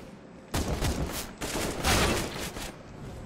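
Bursts of video game gunfire crackle in a dense, continuous fusillade of overlapping shots, loud and close, with brief gaps between volleys.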